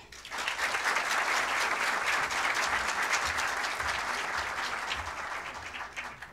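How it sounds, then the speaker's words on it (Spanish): Audience applause at a book launch, a full, steady burst of clapping from a seated crowd that swells quickly and holds strong for several seconds. "Un aplauso para él."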